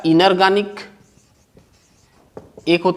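Chalk or marker scratches faintly across a board as a teacher writes during a chemistry lesson, a soft rubbing stroke in the pause between spoken explanation.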